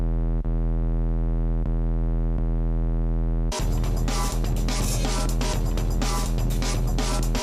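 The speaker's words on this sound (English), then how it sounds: "for this sound, I'm going to be using a sine wave and then adding a bunch of distortion" A steady low sine tone hums alone, then abruptly turns into a harsh, buzzing distorted synth sound with rhythmic pulsing.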